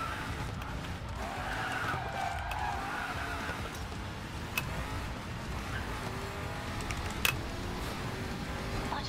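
Bugatti sports car drifting in a racing video game, continuous engine roar and tire skid noise held at a steady level, with a couple of brief sharp clicks.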